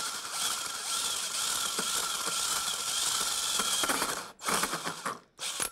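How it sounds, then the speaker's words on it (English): Large hole saw cutting into pine wood, a steady loud grinding, rattling whir with a gritty chatter, briefly stopping and restarting near the end, close up with no talk. "the correct technique for a hole saw of this size is to go with it"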